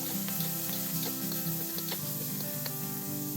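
Vegetables stir-frying in smoking-hot canola oil in a wok for Chinese egg fried rice, a steady close sizzle and crackle with scattered pops and scraping stirs throughout, no talking.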